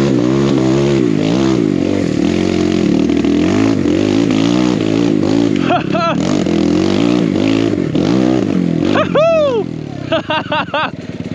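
Dirt bike fitted with a big bore kit climbing a mountain trail, its engine loud and close, rising and falling through revs, with a rider's voice heard over it.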